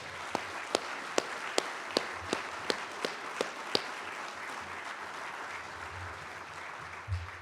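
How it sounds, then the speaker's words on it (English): At a military change of responsibility ceremony, an audience gives a round of applause: a string of crisp, evenly spaced claps stands out at first, then a softer, sustained wash of clapping continues in a large room. "please join me in a round of applause for my team."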